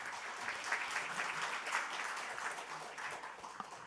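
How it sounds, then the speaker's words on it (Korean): An audience applauds at a National Assembly policy forum in Korea, steady clapping from the crowd heard at a distance, fairly quiet. "큰 박수 보내주시길 바랍니다."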